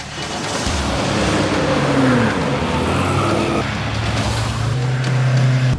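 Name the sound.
car speeding past on the road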